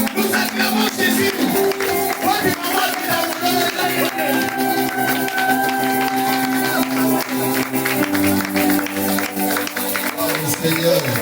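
Church congregation at a Sunday worship service acclaiming and clapping steadily, a dense, continuous wash of hands and voices over music-like sustained tones, loud and close throughout.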